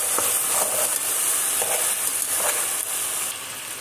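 Spiced vegetables being stirred in a hot frying pan, a steady loud sizzle and hiss with soft scraping stirs every second or so, no talking.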